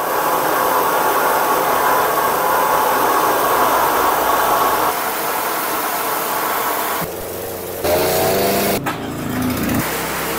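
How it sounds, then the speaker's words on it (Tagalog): A 2-in-1 rice mill and pulverizer machine runs with a loud, steady mechanical roar and hiss, with a shift in tone partway through and a few louder bursts near the end. "combine po siya ng rice mill, tapos po pulverizer machine"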